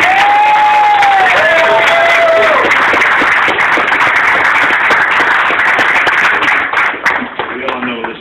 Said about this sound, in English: I'd like to have a round of applause for our Woman of the Year